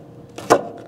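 A kitchen knife slices down through an oatmeal okonomiyaki in a single soft chopping cut that thuds onto the board, with a little faint rustle before it.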